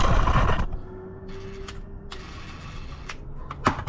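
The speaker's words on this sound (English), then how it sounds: "All right, it's broke loose, so go ahead and ratchet it the rest of the way off." A ratchet turns loose the differential fill plug on a 1989–93 Mazda Miata NA, beginning with a loud mechanical burst, then a quieter stretch of sparse, close clicks and creaks.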